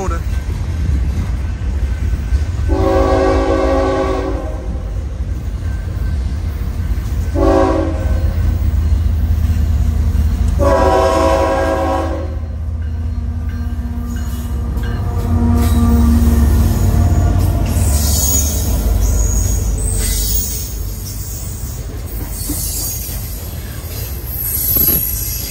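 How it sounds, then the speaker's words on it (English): A long intermodal freight train rumbles past in Spencer with low, steady wheel noise and some squealing, while someone speaks intermittently over it. "Got another train coming over my shoulder."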